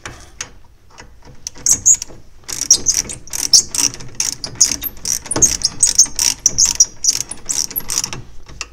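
A ratchet wrench clicks rapidly in uneven bursts while running wheel bolts in on a Toyota Aygo during a brake disc and pad change, close and crisp with short pauses between runs.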